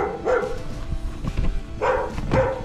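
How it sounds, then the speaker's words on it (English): A neighborhood guard dog barks close and loud outdoors, in a few separate bursts of one or two barks with short pauses between them. "It's our neighborhood guard dog."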